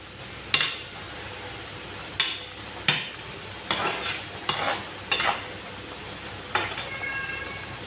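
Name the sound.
fish pieces cooking in boiling curry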